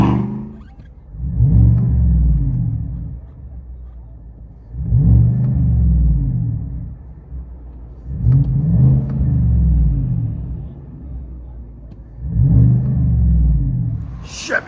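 A 2022 Chevy Silverado RST with a 5.3L V8, a Flowmaster Outlaw exhaust and stock resonators, heard from inside the cab: four loud, deep revs that rise and fall about every three seconds over a low idle rumble.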